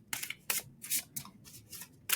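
Tarot cards being shuffled by hand close up: about six quick, quiet riffling bursts in an uneven rhythm, separated by short pauses, with no talk.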